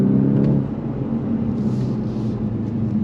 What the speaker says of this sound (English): Love shifting through the gears